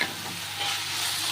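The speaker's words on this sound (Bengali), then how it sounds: "সর্ষে দেবো আর উপর থেকে একটু সর্ষের তেল দেবো, দিয়ে আমি এবার এটাকে নাড়াচাড়া করে নামিয়ে নেব।" Mustard paste and mustard oil stirred in a frying pan make a brief, even sizzle with soft scraping from the spoon, close and moderately loud.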